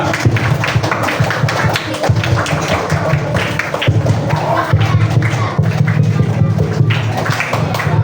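A group of scouts performing the Pramuka scout clap, with dense rhythmic hand claps and thumps from many people, loud and continuous, mixed with crowd noise and occasional shouts.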